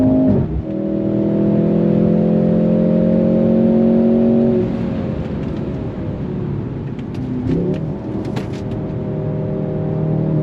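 A 2023 Mercedes-AMG C43 sport sedan revs hard and pulls away, a loud sustained roar that drops briefly at a gear shift, then climbs again.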